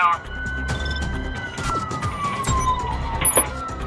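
A police car siren wails during a high-speed pursuit on city streets, with a rising and falling tone sweeping across the clip over engine noise and road clatter. A voice speaks over it.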